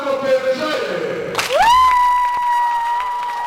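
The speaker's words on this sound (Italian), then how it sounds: "Allora, applauso uno per Gioele." Audience at a live hockey event in Legnaro breaks into loud cheering and shouting for a contestant, a sharp whistle-like tone rising and holding over the crowd noise.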